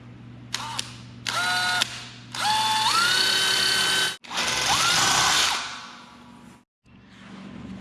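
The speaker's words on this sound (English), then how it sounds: "now I just need to drill me a hole and I'll put my second bolt in" A hand drill bores a bolt hole through the steel coupler of a Harbor Freight utility trailer, the motor whining in several loud bursts that start and stop, rising in pitch as it spins up, with short pauses between.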